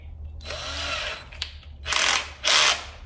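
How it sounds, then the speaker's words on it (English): Power drill tightening a screw on a slow-close cabinet hinge: a brief whir, then two louder, harsher bursts close by, each about half a second, with no talk. "got your handy dandy drill"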